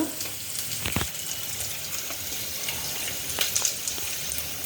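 Chicken fries lightly in a pan, giving a steady close hiss and gentle bubbling crackle throughout, with a couple of brief knocks from a utensil.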